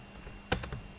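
A computer keyboard is pressed for Ctrl V, giving one crisp keystroke followed by a couple of fainter key clicks in a quiet room.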